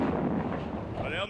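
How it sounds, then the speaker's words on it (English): Mortar fire in the WWII strategy game Sudden Strike Gold's Russian addon campaign: a dense, continuous rumble of booming blasts filling the whole moment, loud and steady, with faint shifting tones near the end. "Okay, mortars all the way down there"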